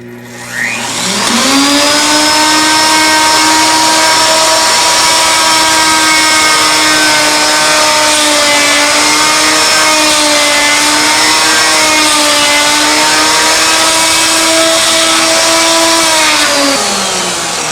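A router fitted with a surface planing bit mills a hammer head walking cane on a lathe setup, giving a loud, steady high-pitched whine that ramps up, holds for about fifteen seconds and then winds down, with no talking.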